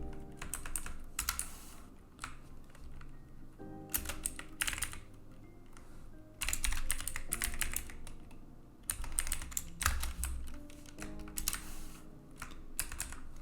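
Fast bursts of typing on a computer keyboard, close and crisp, with short pauses between runs of key clicks and no talking.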